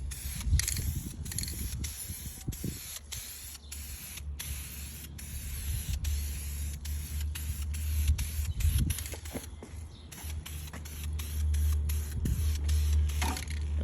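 A spray can lays a light fog coat of primer during a 351W clean-up, with short hissing bursts repeated in a broken rhythm, along with low rumbling and scattered mechanical clicks close by.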